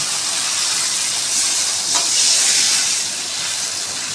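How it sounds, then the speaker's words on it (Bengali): Water is poured into a pan of hot fried spice paste in oil, producing a loud, steady close hiss of sizzling steam that swells slightly midway and keeps going throughout. "এখন আমি পরিমাণ মতো জল দিয়ে দেব।"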